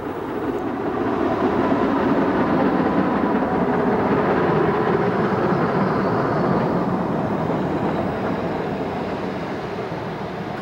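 An O gauge model train rolls steadily along a layout past a small-town station, its continuous rumbling and wheel clatter holding an even level throughout.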